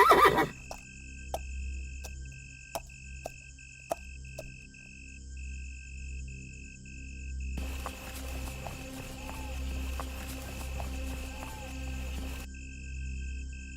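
A frightened horse whinnies in a forest, with sharp hoof knocks early on, then a long, shaky neigh rising over a faint steady drone.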